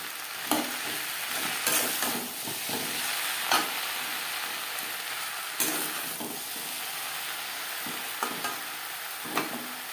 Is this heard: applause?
no